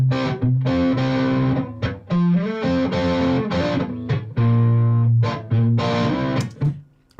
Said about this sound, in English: So here is just the one guitar on its own, soloed with no delay and reverb.